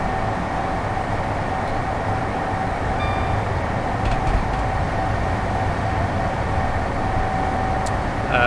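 HST Class 43 power car 43185 in Great Western livery running in a train simulator game: a steady, loud diesel rumble with rail noise, continuous throughout with no talk.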